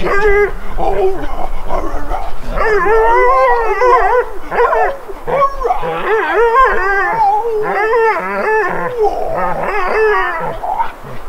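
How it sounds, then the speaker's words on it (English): An excited dog on a winter camping trip howls and yips loudly and continuously, with rising and falling whimpering wails and short barks up close. "If that don't sound like a dog that's happy to be camping, I don't know what does"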